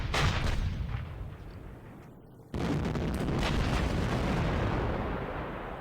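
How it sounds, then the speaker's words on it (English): Heavy siege guns firing in the Panzer Campaigns Bulge 44 wargame: a loud booming blast with a rolling decay, then a second sharp report that cuts in and rumbles on, close and without voices. "we have some more of these heavy siege guns"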